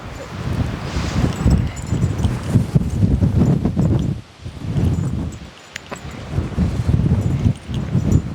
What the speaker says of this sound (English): So if you can't hear us well, it's because of the wind.